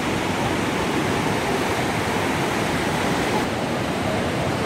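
Class 6 whitewater rapids on a river roar continuously, a loud, dense rushing wash of water heard up close without pause.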